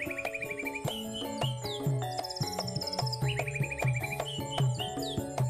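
Many birds chirp over a rice paddy, a dense, busy chorus of bright tweets and trilling calls overlapping near and far, continuous throughout with no talk.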